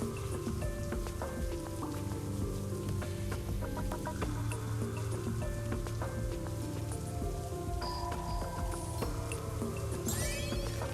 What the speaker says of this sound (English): The Storm Caller brings forth the rain to increase their damage.